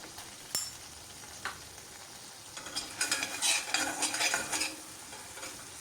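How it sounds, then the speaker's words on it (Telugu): A spoon stirs and scrapes through a Schezwan chutney spice mixture with oregano, dry mango powder and salt, giving a run of close, quick scraping strokes after a couple of light clinks. "ఇదంతా మనకి ఒకసారి బాగా కలిసేటట్లుగా కలుపుకోవాలి."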